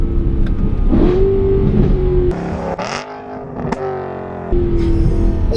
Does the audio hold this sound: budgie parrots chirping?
no